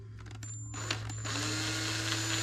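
A Ryobi drill chuck being screwed back onto the drill by hand, a steady mechanical whirring and grinding with short clicks at the start, fairly close and continuous, with no voices.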